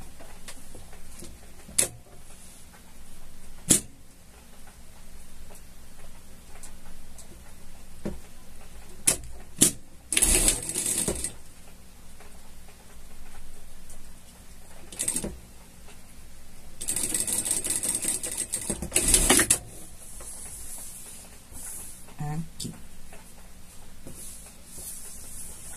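Short bursts of a sewing machine stitch a pet harness, the needle whirring in brief runs separated by pauses, with small clicks and handling noises in a quiet room.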